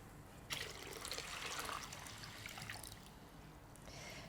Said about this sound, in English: we're going to place this in our bowl and then fill it with water